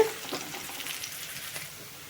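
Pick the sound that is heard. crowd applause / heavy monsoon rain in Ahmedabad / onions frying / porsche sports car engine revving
onions frying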